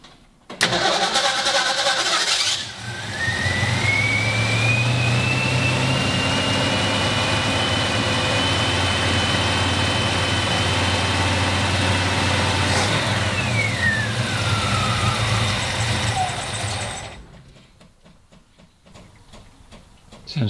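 A 1957 Ford Ranchero engine cranks briefly, fires and settles into a loud, close running idle with a rising then falling whine, before shutting off into near quiet.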